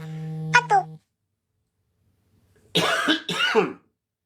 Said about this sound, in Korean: 며칠 전에 그 감기 걸렸던 게 아직 기침을 하고 있어서